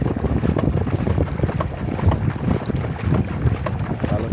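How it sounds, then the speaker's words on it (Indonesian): Water rushing hard past a wind-driven windmill wheel in a salt-making setup lined with tarpaulin: a loud, steady, churning wash with constant splashing and no talk. "derasnya air yang dihasilkan oleh kincir angin"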